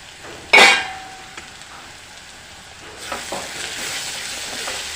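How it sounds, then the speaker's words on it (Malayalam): Onions sauté in a covered pan for a Kerala squid roast. A loud metallic clank, probably the lid, is followed by a steady sizzle and soft stirring scrapes close by. "സവാള നല്ലതുപോലെ വഴണ്ട് കിട്ടിയിട്ടുണ്ട്"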